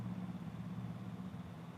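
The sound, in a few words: motorcycle engine passing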